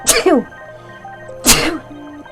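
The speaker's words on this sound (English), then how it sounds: "Come on, sneeze." A person sneezes twice, close and loud, about a second and a half apart, while making pom-pom crafts for a Santa.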